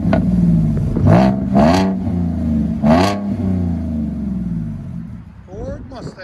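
A 2016 Ford Mustang with a 3.7L V6, six-speed manual and dual exhaust with muffler delete revs in several sharp bursts over a rumbling idle, each rising and falling quickly at close range.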